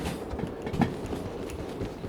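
A train runs in the Derail Valley railway game, a steady low rumble of wheels and rolling stock with faint rhythmic clacking and no talking.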